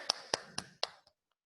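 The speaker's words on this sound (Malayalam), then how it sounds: "give clap" Four sharp hand claps in an even rhythm, close and fairly faint, ending with a softer trailing tap and then silence, from a children's maths lesson.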